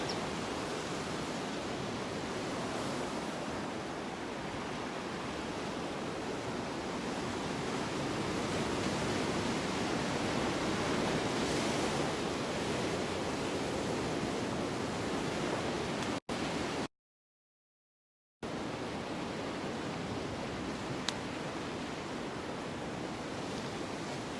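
Ocean waves at Laguna Beach give a steady, broad wash of surf heard alone, the roar swelling slightly midway, with a brief dropout near the end.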